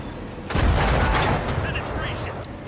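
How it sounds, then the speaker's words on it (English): A T92 tank's 75mm gun fires in a World of Tanks battle, with one sharp, heavy boom that then decays into a rumbling tail, close and loud, and a voice talking around it. "It may be a little pea shooter, but these many rounds also cause damage"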